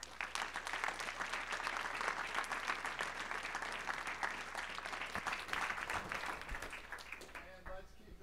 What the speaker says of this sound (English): let's give a round of applause for our presenters